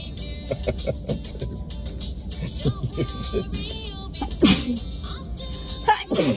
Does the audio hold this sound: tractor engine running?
no